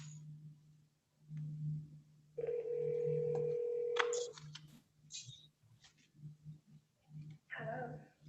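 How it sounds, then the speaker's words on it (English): A telephone rings once in a long steady tone as a call is placed to a phone number during an online court meeting, and quiet talk and clicks come before and after. "I'm gonna call that phone number, Mr. Murray, see if she can get on that way."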